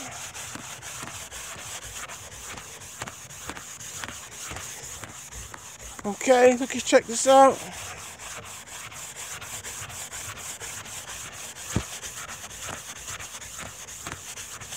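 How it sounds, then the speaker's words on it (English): Continuous rhythmic rubbing and scratching of a Dollar Tree sanding sponge on wood, close up, with a brief spoken remark in the middle. "And just by sanding it, makes it look better."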